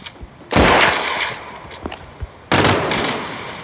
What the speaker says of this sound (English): They updated all the gunshots now.